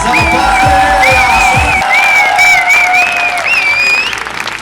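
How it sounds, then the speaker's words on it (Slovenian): A crowd at a reception for Slovenian Olympic athletes breaks into loud applause, with dense clapping at first, then sustained cheering and whoops ringing over the clapping as it continues. "dajmo še en aplavz za Patreja!"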